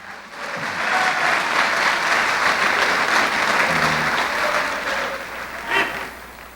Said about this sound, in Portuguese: Salva de palmas para Jesus, amados.